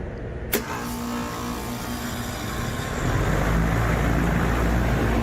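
HVAC ball bearing motor running after a new motor capacitor is fitted, a steady broadband whir with a click near the start, growing slightly louder partway through, close and continuous without talk.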